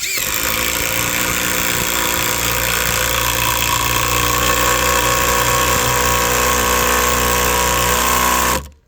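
Loud, continuous motor whine of a 20-volt impact driver sinking screws into dry elm, a steady buzzing drone holding for about eight and a half seconds before cutting off abruptly, with no talk over it.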